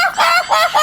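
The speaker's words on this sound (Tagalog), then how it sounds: "Tumilaok na naman yung manok, be." A rooster crows in a short, loud burst with repeated rising harmonic calls, close by and alone.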